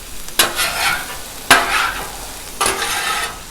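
Bacon frying on a large Blackstone flat-top griddle, a steady close sizzle broken by three sharp scraping strokes of a spatula, with no talking.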